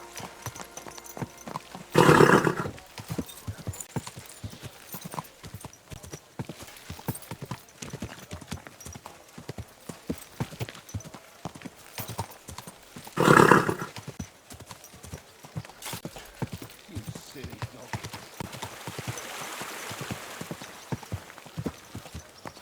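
Horse hooves clip-clop at a steady walking pace in the medieval video game Kingdom Come: Deliverance 2. Two loud, brief snorts or whinnies cut in, while ambient outdoor noise runs underneath.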